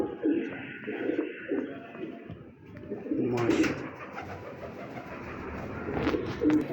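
Kalu Baloch breed pigeons coo in low, throaty bursts, with a steady outdoor murmur behind them and a slightly busier stretch of sound about halfway through.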